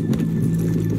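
Horse hooves clopping in Red Dead Redemption 2 in the town of Valentine, a brief run of close, muffled hoof beats with no talking.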